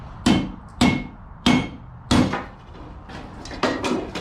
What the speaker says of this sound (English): I'm just going to hammer through